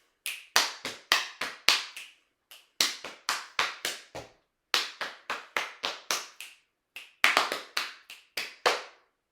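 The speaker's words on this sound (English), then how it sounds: "Body percussion, we have snap, clap, pat, and stomp." Sharp rhythmic body percussion: rapid bursts of snaps, claps, pats and stomps in quick groups, separated by short pauses, close and crisp with no voices.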